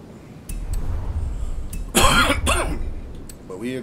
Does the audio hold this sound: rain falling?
no